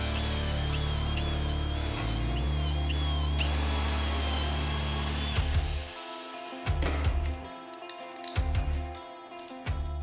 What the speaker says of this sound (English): Then I started drilling probably way too many pocket holes to attach all these together.